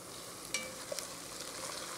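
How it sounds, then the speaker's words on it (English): Onions and garlic softening in a pan make a soft, steady low sizzle heard faintly at a distance, with a couple of light clinks from a utensil partway through. "So the onions and the garlic are cooking until they're nice and soft"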